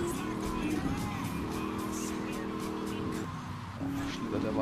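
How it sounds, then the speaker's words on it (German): A Banshee car in the GTA 3 video game, with a sustained engine drone and tire squeal as it skids, mixed under someone talking. "Schlittert der Wagen."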